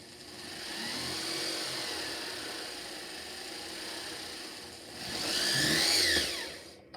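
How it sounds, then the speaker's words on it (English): A small drill bit bores holes through a textured double-sided metal pendant, a steady high whine that swells and then rises to a louder, brighter burst near the end, with no talking. "I'm going to drill out this guy here."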